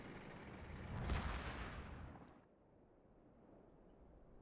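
A single heavy Wespe self-propelled artillery shot in World of Tanks, a deep booming blast that rolls out and fades over about a second into quiet ambience.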